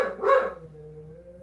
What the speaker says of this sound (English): I don't really like fussing at them for barking because that's what they're supposed to do.